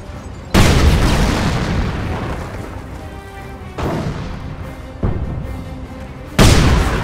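Heavy airstrike explosions in the Company of Heroes strategy game, four deep booming blasts spaced a second or more apart, each with a long rumbling decay, loud and close with no talking.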